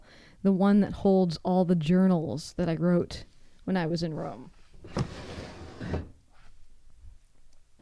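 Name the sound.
opening the heaviest drawer of an old metal desk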